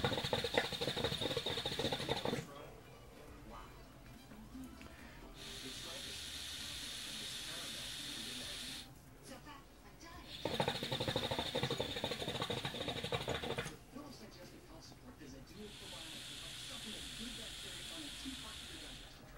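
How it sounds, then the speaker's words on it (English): Air hisses out of an El Nefes Colonial Sultan hookah in long broadband bursts during a hit and purge, several loud rushes separated by quieter gaps, close to the mic. "let me take a hit, and maybe you could hear the air leak a little bit,"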